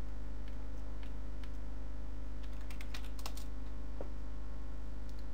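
Typing on a computer keyboard, a scattered run of soft key clicks with a quick cluster near the middle, faint over a steady electrical hum.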